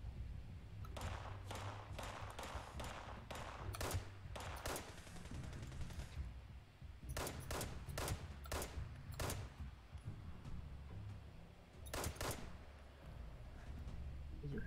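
Gunfire in the video game Fallout 76 cracks out in scattered bursts, single shots and quick clusters separated by short pauses over a low background rumble.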